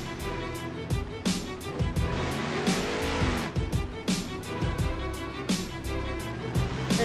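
Overkill Evolution monster truck in BeamNG.drive at a Monster Jam-style two-wheel skills event, engine revving and surging with repeated sharp impacts and tire noise, loud and close throughout.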